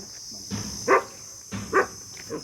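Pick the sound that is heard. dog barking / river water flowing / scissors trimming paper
dog barking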